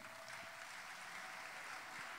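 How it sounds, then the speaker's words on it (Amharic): A congregation at a church service gives faint, continuous applause for the Lord, a soft, even wash of many clapping hands heard from a distance. "ለጌታ ክብር ጭብጨባ"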